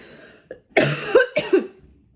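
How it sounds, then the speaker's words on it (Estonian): A person with a lingering cough lets out a short burst of two or three harsh, close coughs after a faint throat sound, then falls quiet. "see köha on mind nii suurelt piinanud"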